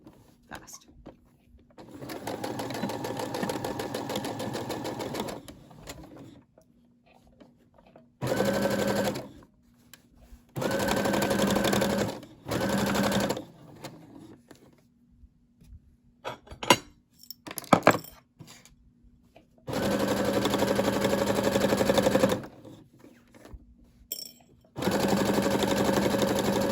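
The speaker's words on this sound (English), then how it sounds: "So I'll do the first one with you, and then I'll do the rest" Brother SE600 sewing machine stitching fabric napkin corners, running in several whirring bursts of varying length separated by pauses, with small clinks and handling sounds between runs.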